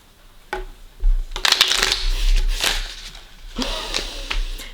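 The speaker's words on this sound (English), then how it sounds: "So I'm going to give it a couple of shuffles here." Several bursts of tarot cards being riffled and shuffled close by, crisp flapping rustles repeating over a few seconds with short pauses between.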